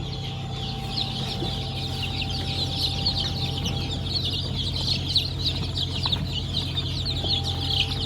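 Chickens at a farm cluck steadily in a dense flock, with a continuous hum from a ventilation fan running underneath throughout.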